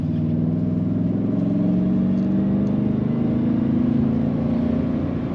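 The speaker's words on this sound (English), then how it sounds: "It accelerates as you would expect for this truck." A 1998 Chevrolet Silverado K1500 extended-cab pickup accelerates from inside the cab, a steady mid-pitched engine drone rising gently in pitch over a few seconds, with no talking.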